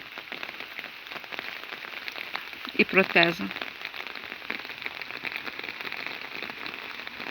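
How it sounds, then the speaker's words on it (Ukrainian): Rain pattering steadily on a surface and dripping onto a cup of coffee, a brief burst of a nearby voice partway through, then the dripping patter carries on alone. "Ой, на каву капає дощ."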